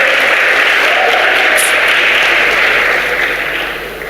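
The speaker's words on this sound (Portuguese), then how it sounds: "aplauso para Jesus, para Carlos." Applause from a church congregation, steady dense clapping that carries for about four seconds and begins to fade near the end.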